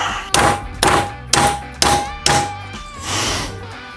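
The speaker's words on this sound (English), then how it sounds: "Just gonna see if we can bend this thing in the vise." Metal is struck while bending a piece held in a vise for a 1948 GMC pickup truck: five sharp, evenly spaced metallic blows about half a second apart, loud and close, followed by a softer rubbing sweep.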